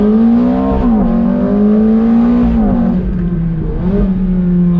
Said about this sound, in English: First gear, on throttle.